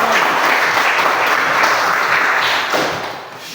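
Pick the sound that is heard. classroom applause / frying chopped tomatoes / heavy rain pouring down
classroom applause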